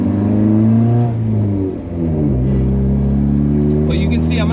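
A car engine fitted with an aftermarket MaXpeedingRods turbo lugs low, then accelerates hard as the turbo spools up, rumbling loud and close under a person's talk.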